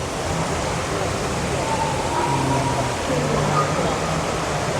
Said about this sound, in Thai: นี่เป็นน้ำตกหน่อยเนาะ